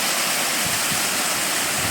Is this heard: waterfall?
yes